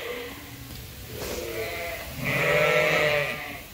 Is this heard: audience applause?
no